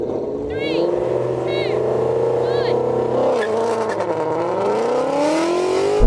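Porsche 911 and Shelby GT350 pulling hard off the line in a drag race, a steady engine roar with rising pitch as the cars accelerate, loud and continuous, with a voice speaking over it and brief tire chirps early on.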